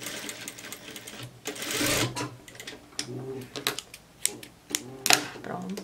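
A domestic sewing machine closes a shirt collar seam in short, rapid bursts of needle clatter separated by brief pauses, close and fairly loud.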